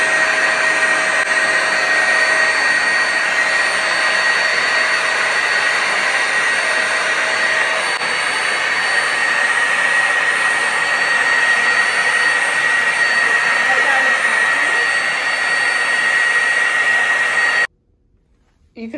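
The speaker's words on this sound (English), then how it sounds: "I'm going to turn on the vacuum, and then I'm going to turn on the high steam power." A Bissell steam mop runs with its vacuum and high steam power switched on, giving a loud, steady whine with a constant high-pitched tone that stops abruptly near the end.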